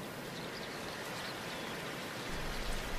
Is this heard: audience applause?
no